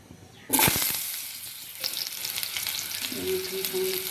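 Potatoes drop into hot oil in a pan with a sudden loud burst of sizzling that settles into a steady, close frying crackle, with a few light utensil clinks and stirring.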